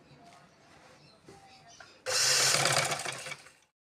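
Sewing machine stitching pleats into a pintuck frock, a loud steady whirring burst of about a second and a half that follows quieter handling sounds and stops abruptly.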